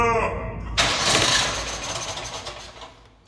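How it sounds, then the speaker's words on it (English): John Deere XUV utility vehicle with a freshly replaced fuel filter cranking over, then the engine catching and starting abruptly, settling into a loud, rough running roar up close. "Now let's Fire it up!"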